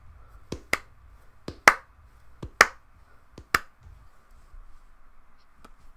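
Sharp, crisp claps ring out one at a time at an uneven pace, about eight in all, with near silence between them.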